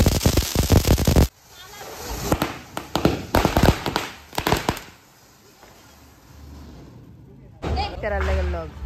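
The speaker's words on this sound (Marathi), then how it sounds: "किरकिर टिकली बॉम्ब." Diwali tikli bomb firecrackers go off in quick bursts of sharp snapping pops at a family celebration, loud and close, with a quieter stretch between volleys and people's voices heard near the end.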